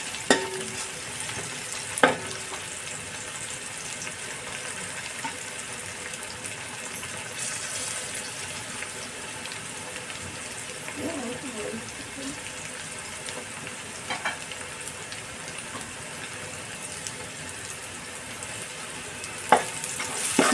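Sliced onions for fish biryani sizzle steadily in hot oil, with stirring scrapes and a few sharp clinks from the utensil against the pan throughout.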